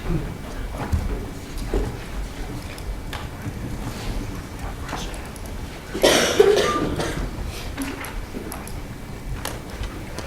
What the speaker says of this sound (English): I'd like to apologize for this very annoying cough